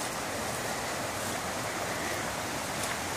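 A flooded creek rushes in a steady, broadband roar without pause, loud and close throughout, with no other sounds on top.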